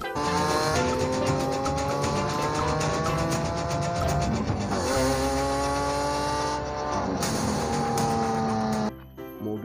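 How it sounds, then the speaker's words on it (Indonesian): A toy Lamborghini race car plays its electronic engine roar and squealing tire effects in one continuous loud burst that cuts off abruptly near the end, with no talking. "mobil balap teman-teman"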